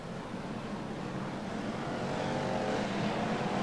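BriSCA Formula 1 stock cars racing at Long Eaton in 1993, a steady broad engine roar that swells slightly as the pack pulls away, heard at a distance with no voices.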